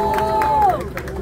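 Live audience at a Brazilian rap battle, the Batalha do Coliseu, crowd roaring and cheering loudly in a sustained, dense wave of noise with scattered shouts.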